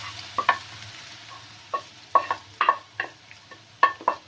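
Gajar halwa ingredients fried in ghee are stirred with a spoon scraping the pan in a series of short, uneven strokes over a faint, low sizzle, close and fairly quiet, with no one talking.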